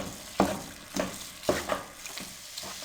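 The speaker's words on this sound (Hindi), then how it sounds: "अब सूजी को उस वक्त तक भूनेंगे जब तक इसमें से अच्छी खुशबू ना आना शुरू हो जाए और मुसलसल इसमें चम्मच हिलाएंगे ताकि सूजी नीचे से जलने ना पाए।" A spoon stirs semolina roasting in a pan over a medium flame for halwa, giving a few distinct scraping strokes at an uneven rhythm over a faint background sizzle. The sound is close and moderately loud, with no talking.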